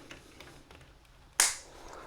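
Scissors give one crisp snip through the cord of a retro PC cable. It is close and sharp, with a short ring-off against a quiet room.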